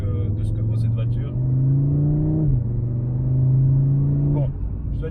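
Audi RS3 engine pulling hard on a race track, a steady loud harmonic drone rising in pitch, briefly dropping at a gear change, then climbing again, with a voice talking over it.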